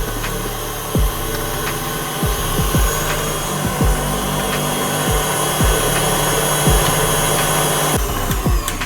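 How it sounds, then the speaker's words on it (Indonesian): An electric hand mixer whips cheese chiffon cake batter with a steady, loud motor whir throughout, punctuated by repeated knocks and scrapes of the beaters against the bowl. "ini di mixer sampai soft cake aja atau lembut tapi tidak terlalu kaku"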